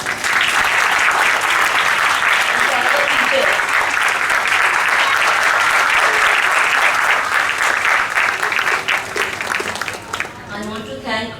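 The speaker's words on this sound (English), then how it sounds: "A big round of applause for our children." A hall audience at a Mother's Day school event gives children a loud, sustained round of applause, dense clapping continuing for most of the time before tapering, as a voice speaks over the end.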